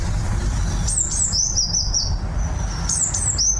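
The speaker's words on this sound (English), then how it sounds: "And this morning, it's a bird in the garden." A bird singing in a garden in the morning, loud clear whistled phrases in two bursts over a low rumble of traffic or background noise.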